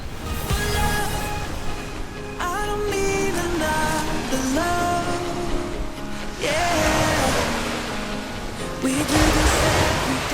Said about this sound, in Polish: Chodźcie, tutaj jest morze.